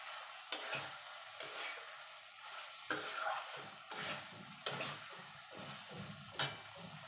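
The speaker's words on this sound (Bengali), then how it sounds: "এবার দিয়ে দেবো যে ভেন্ডিটা ভেজে রেখেছিলাম সেইটা দিয়ে এবার মশলার সঙ্গে ভালো করে কষিয়ে নেবো" Fried okra is stirred and sautéed with spices in a pan, with repeated sharp scrapes and clinks of a spatula every second or so over a soft background sizzle, with no talking.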